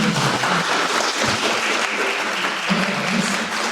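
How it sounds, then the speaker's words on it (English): A convention audience applauds a women's stunt performers panel, the steady clapping of a room-sized crowd filling the space evenly for several seconds with a faint voice or two beneath it. "let's give a round of applause for amazing"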